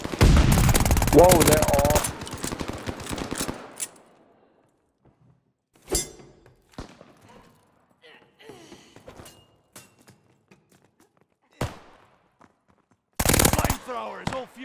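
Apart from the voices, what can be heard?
machine pistol firing in a video game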